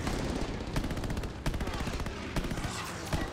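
Dense gunfire and anti-aircraft guns in a WWII flight combat game, Call of Duty Vanguard campaign: loud, rapid repeated bursts over a constant heavy rumble, with sharp louder cracks every half second or so.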